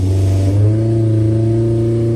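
An engine revving on a dyno, loud and close, with a strong steady droning tone that rises slightly as the revs climb.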